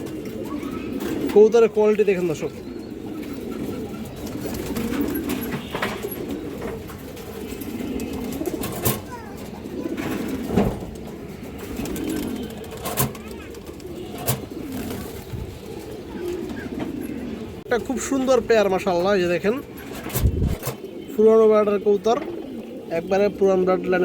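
Silver pigeons cooing in a market setting, repeated soft throaty coos close by, mixed with occasional wing flaps and someone talking throughout.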